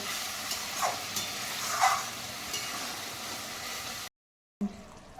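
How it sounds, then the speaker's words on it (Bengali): Lote fish (Bombay duck) masala is gently stirred in a pan over medium heat, giving a steady close sizzle and hiss with soft scraping strokes, then a brief silence and a muffled clunk. "এইটা হালকা করে একদম আলতোভাবে নেড়ে মিডিয়াম আঁচে ঢাকা দিয়ে দেবো একটু"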